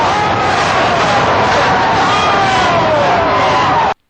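A large, agitated political rally crowd screams and yells in a dense, continuous roar of many voices, loud and unbroken until it cuts off abruptly at the end.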